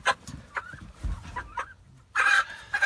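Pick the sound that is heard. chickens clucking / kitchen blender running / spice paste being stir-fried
chickens clucking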